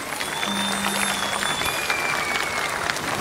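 Concert audience applauding at the 87th International Bergama Festival, a steady broadband wash of many hands clapping together over the full stretch, dense and continuous with a faint background tone briefly audible.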